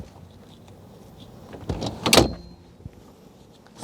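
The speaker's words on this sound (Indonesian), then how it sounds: "Sekarang kita tegakkan kursi." The rear seat of a 2020 Peugeot 5008 Allure Plus is raised upright, producing a soft rustle that builds into a firm latching clunk, followed by a faint click.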